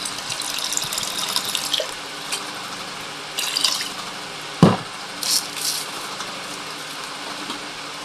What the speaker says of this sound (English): So let me fill it with water.